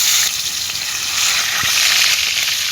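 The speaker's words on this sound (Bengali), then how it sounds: "তেল গরম হয়ে গেছে, এখন মাছ দিয়ে দিলাম।" Fish frying in hot oil, with a steady, loud sizzle and crackle that starts the moment the fish goes into the pan and carries on without a break, close to the listener, and no voices.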